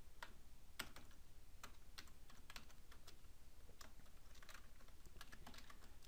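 Text being typed on a computer keyboard, a faint, quick run of light key clicks at an uneven pace over a quiet steady background hum, with no talking.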